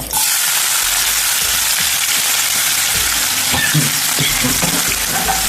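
Sliced onion sizzles steadily in hot oil with mustard seeds, fenugreek and fennel for a Kerala fish roast, a loud close frying hiss throughout with a few stirring knocks.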